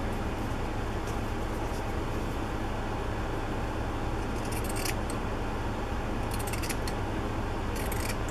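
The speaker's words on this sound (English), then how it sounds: "Here are my fabric pinking shears." Fabric pinking shears snipping through fabric, a few brief crisp cutting crunches at the end over a steady background hiss.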